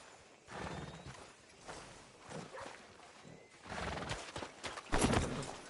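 Horse hooves clip-clopping and a neigh in a Western-style video game, irregular hoofbeats in short bursts with a louder whinny near the end, moderately close.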